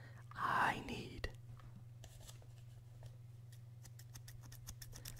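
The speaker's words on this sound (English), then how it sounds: "I conveniently just had scissors laying here." Metal scissors picked up and handled close to the mic in a quiet room, a few soft clicks and brief blade snips among light rustling, with a soft voice whispering at the start.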